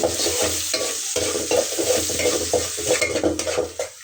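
Onions fry with salt in a pan, sizzling loudly and steadily while a utensil stirs them in repeated scraping strokes; no one speaks.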